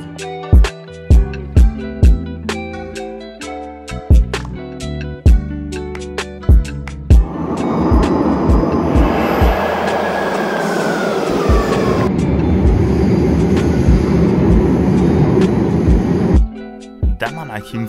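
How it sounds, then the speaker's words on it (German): A Naples metro train ride: a sustained loud rumble and roar of the carriage in motion, with a rising whine partway through, preceded and followed by sharp clacks and thuds and occasional voices. "Und jetzt fahren wir das erste Mal hier Metro."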